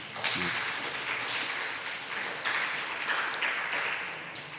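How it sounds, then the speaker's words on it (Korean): A church congregation claps in congratulation during a Sunday service, a soft, fairly faint patter of many hands that swells and eases over several seconds. "우리 축하의 박수 한번 주시기를 바랍니다."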